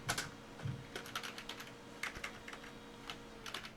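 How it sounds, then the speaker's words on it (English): A discount code retyped on a computer keyboard: a steady run of light, rapid keystrokes, fairly faint over a low background hum, with no talking. "Let me just retype it."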